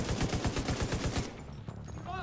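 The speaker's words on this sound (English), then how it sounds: "I really love LMGs in this game, they're so good." Rapid bursts of light machine gun fire in the shooter game The Division 2, a fast rhythmic string of loud shots for over a second, then quieter game ambience with scattered sounds.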